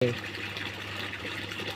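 Water gushing steadily from the delivery pipe of a CRI 3-horsepower submersible motor pump watering a field, a continuous rushing wash with no break, voices faintly present.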